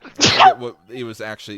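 A single sharp sneeze bursts out near the start, followed right away by a person talking.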